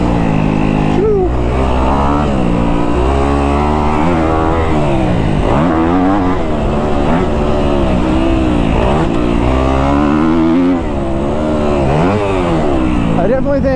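A Yamaha dirt bike engine revs hard and continuously on a motocross track with table-top jumps, its pitch rising and falling as the rider works the throttle, loud and close, with talk over it.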